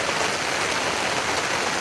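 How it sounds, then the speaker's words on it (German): Steady, dense patter of rain dripping through and off a tarp at a roadside camp, a continuous close hiss of drops with no pauses or voices. "dann wackelt halt das ganze Tarp und dann tropft das alles runter"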